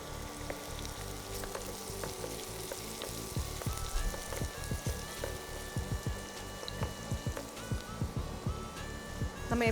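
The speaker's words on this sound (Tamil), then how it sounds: "வெங்காயம், பூண்டு, இஞ்சி இதெல்லாம் ஓரளவுக்கு வதங்கிடுச்சு" Onion, garlic and ginger frying in a pan give a steady close sizzle, broken by frequent sharp scraping clicks of stirring with no talk.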